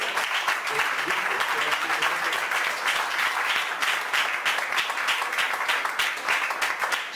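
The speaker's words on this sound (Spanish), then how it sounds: "A su nombre, aplaude al Señor" A church congregation claps together in praise during a sermon, a sustained wash of many hands at a moderate distance that holds steady throughout, with faint voices mixed in.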